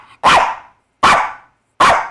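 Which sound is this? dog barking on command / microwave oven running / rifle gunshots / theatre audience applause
dog barking on command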